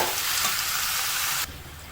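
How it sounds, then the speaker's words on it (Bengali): Onion and tomato paste sizzling hard in a pan over a high gas flame while being stirred, a loud steady frying hiss that drops off abruptly near the end, with no talk. "দিয়ে গ্যাসের ফ্লেমটা হাই করে দিলাম। দিয়ে আবারও এটাকে একটু ভালোভাবে নেড়ে নিই।"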